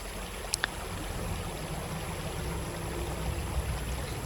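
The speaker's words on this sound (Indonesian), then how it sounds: "Airnya tenang, bening seperti kaca yang mengalir pelan." Clear, calm river water flowing gently past stones, a steady soft wash with faint trickles and a couple of brief ticks near the start, heard alone without talk.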